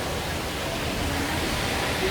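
Rushing water at Düden Waterfall, a dense, steady broadband roar that holds at even loudness the whole time, with no voices standing out above it.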